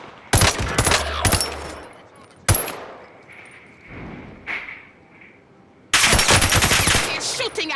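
Gunfire in a Rebirth Resurgence quads battle royale video game, loud rapid automatic bursts broken by single sharp shots and short quiet gaps, with a voice speaking briefly.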